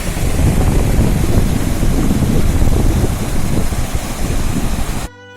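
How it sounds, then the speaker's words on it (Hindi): Meltwater rushing down from the Himalayan peaks of Uttarakhand near the China border, a loud, steady broadband roar mixed with wind buffeting the microphone, continuous for about five seconds before cutting off abruptly. "पहाड़ों से नीचे उतरता पानी देखिए"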